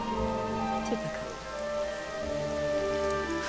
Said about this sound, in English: Why does it always start raining the second we get a chance to be alone?